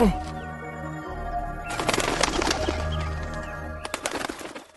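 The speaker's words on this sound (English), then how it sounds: "What's with that bird?" A bird in an animated fantasy series gives soft cooing calls and flutters its wings amid layered background tones and scattered bright clatter, with no voices.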